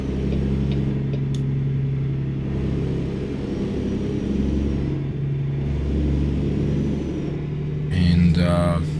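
A Kenworth W900B day cab truck with a V8 CAT C15 engine drives along the Trans-Canada Highway, its steady low engine drone rising and falling slightly, with a brief louder rev near the end.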